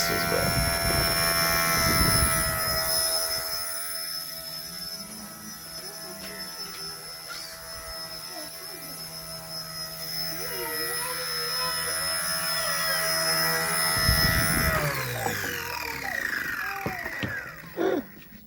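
A homemade 3D-printed RC helicopter with printed blades runs on a test rig, giving a steady high whine with tonal harmonics and rotor buzz throughout, loud and close, shifting near the end.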